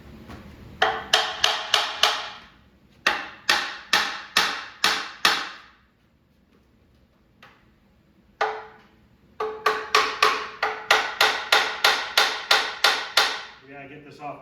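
A hammer taps a metal engine part on a 1959 Chevrolet Impala in quick bursts of ringing strikes, each run of a few to a dozen blows separated by short pauses, close and sharp.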